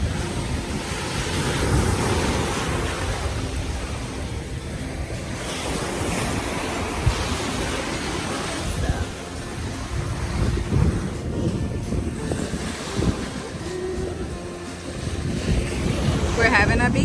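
Ocean surf breaks on the beach at Playa del Carmen, Mexico, a continuous rushing roar with rolling swells, heavy wind buffeting the microphone, and voices faintly mixed in.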